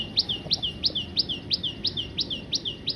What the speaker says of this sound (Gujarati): એ ભાઈ ચકલી